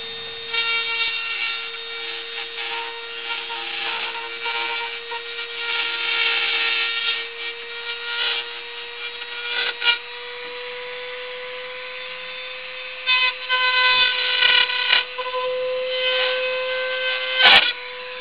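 A Dremel rotary tool cuts into the plastic case of an Xbox 360 fat console, a steady high whine with harsh grinding bursts as the bit bites the shell, loud and close, with brief pauses.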